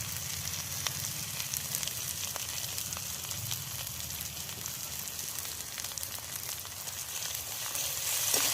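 Oil sizzles steadily in a pan while a Bengali-style puti fish dish is cooked, giving a continuous close hiss with faint crackles and no talking.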